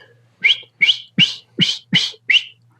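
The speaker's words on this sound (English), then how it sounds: "if you can just whistle, that's the same air that you're using to blow a duck call." A person whistles six short, evenly spaced rising notes, close and clear, showing the breath used to blow a duck call.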